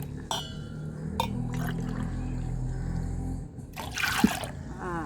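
Water pours steadily into a pot with a low, continuous gurgle, followed by a brief splashing clatter near the end.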